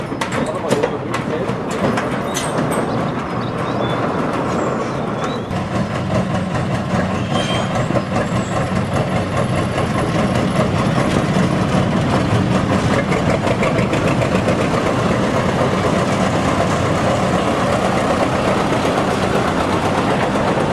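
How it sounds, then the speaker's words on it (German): A work train of the Britzer Parkbahn park railway rolls back toward its engine shed, its small engine chugging and idling steadily for a long stretch, close and fairly loud, with faint talk now and then in the background. "Der Arbeitszug kehrt zum Lokschuppen zurück."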